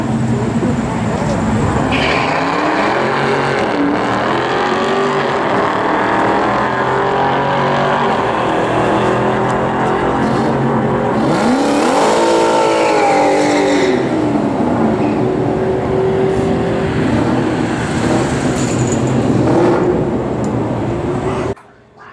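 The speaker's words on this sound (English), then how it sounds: "I tried slipping the clutch a little bit more on this one, riding the clutch out." A 2003 Ford Cobra launching at a drag strip with the clutch slipping, its engine roaring loud and sustained with rising and falling revs, accompanied by background chatter.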